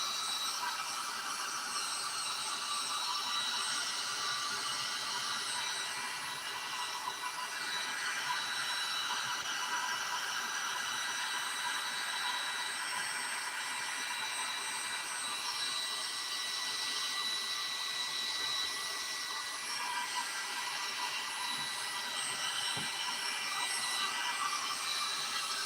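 A dryer blows steadily to dry a gold pan at a gold-panning cleanout, a continuous airy roar with a faint whine that stays even and unbroken throughout.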